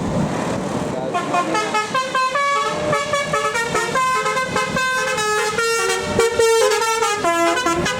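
A bus telolet horn blares from a passing bus, playing rapid melodic tooting phrases over and over, loud and close over traffic rumble, with people talking in the background.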